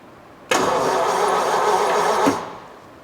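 A Flathead Ford engine with its choke partly off starts abruptly and runs close and loud for about two seconds, a steady rough rumble that swells briefly before cutting off.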